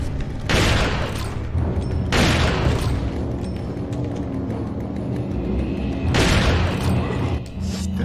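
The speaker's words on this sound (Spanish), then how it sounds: "Iremos descargando tiros hasta que cejen su empeño de hacernos mal." The Striker shotgun fires in the video game Resident Evil 4, with three heavy booming blasts spaced a few seconds apart over a low rumbling background.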